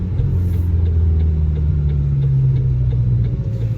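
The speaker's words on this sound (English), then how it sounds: "Engine's got a nice sound. It's not obtrusive at all. It's got a nice mellow growl, I would say." McLaren GT engine giving a mellow, low growl while cruising, a close and steady drone with slight pitch wavering and no talk.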